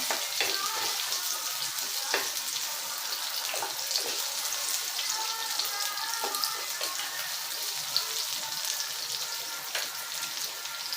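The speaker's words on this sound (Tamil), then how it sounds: "நல்லா வதங்கிட்டு இன்னும் நம்ம ஸ்டவ் ஆஃப் பண்ணிடலாம்" Masala sautéing in a pan for a home-style chicken kulambu, a steady close sizzle and crackle running through with occasional scraping stirs, no talking.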